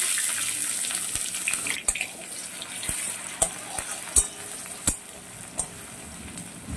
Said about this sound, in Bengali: পেঁয়াজটা আমি বেশ ভালো করে ভেজে নেব।